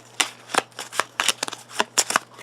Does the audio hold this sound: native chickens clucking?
no